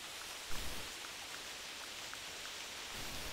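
Steady rain falling in the hunting video game TheHunter, a soft, even hiss of drops with a brief low thump near the start, faint and continuous with no voices.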